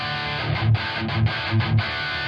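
Crunchy overdriven electric guitar chords from a Harley Benton guitar through an amp simulator, strummed in a steady punky rhythm, with loud accented hits about every half second, no voices.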